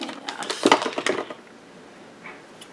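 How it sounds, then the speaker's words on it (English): Scissors snip through a piece of old lace curtain fabric, a close run of crisp rustling cuts for about a second and a half, then quiet. "Let's maybe cut this piece in half."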